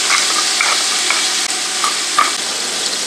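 Meat seasoned with salt and pepper frying in a pan for a Creole pumpkin soup, a loud continuous close sizzle with a few brief pops and one soft knock, no voices.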